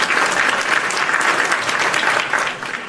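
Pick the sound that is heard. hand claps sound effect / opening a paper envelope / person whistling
hand claps sound effect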